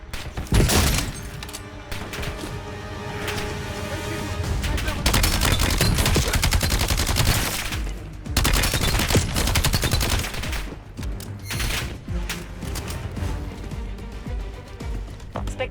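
Gunfire from weapons in the Black Ops 7 video game campaign, dense bursts of rapid automatic shots and heavy booms that go on almost without pause, loud and close, with a game voice speaking under the firefight.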